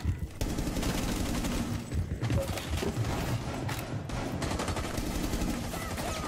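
Video-game weapon fire dealing 40 damage per shot: dense, continuous rapid gunfire with booming low end filling the whole stretch after a brief quiet opening, loud and close, with no clear talking.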